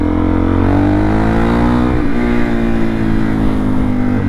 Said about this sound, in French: ce bruit moteur super caractéristique du super moto enduro